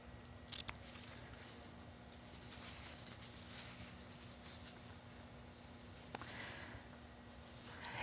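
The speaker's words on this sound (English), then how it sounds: "So I'm going to cut almost a 1/4 inch into my seam allowance at the midpoint of each of the 4 sides." Fabric scissors snip a short cut into a quilting seam allowance, a few crisp close snips standing out over a quiet, steady room hum.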